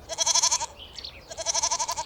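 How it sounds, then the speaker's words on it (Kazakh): A goat bleats twice in two separate wavering, vibrato-rich calls, each roughly half a second long, loud and close with a short pause between them. "Ешкі."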